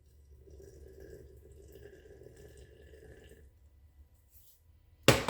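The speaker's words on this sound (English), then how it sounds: "So we're going to go ahead and pour in our hot water." Boiled distilled water poured into a jar for a sourdough starter, a soft, steady trickling pour for about three seconds, then quieter, followed by a sharp clatter at the end.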